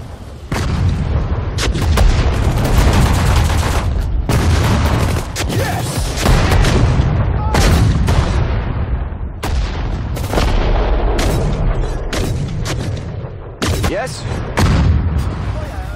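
Booming artillery gunfire in the Sudden Strike 4 video game, set in the Battle of the Bulge, comes as repeated sharp blasts and rolling explosions throughout, with shouted game voice lines mixed in.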